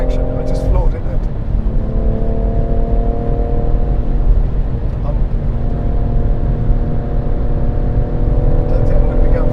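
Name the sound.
BMW M140i accelerating at full throttle on Goodwood circuit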